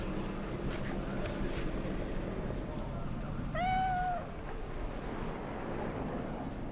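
In the Cyberpunk 2077 video game, a cat lets out one short, thin meow, moderately near, over a steady rumble of background ambience.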